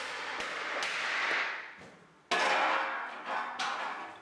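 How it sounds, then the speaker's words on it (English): Sharp, ringing hammer blows land one after another on a steel panel as it is dented into a dish shape in a garage workshop, each strike loud and close with a decaying metallic clang. "the best trick is to make a circle of dents and then work inwards to the centre, thus pushing the piece out into a dish"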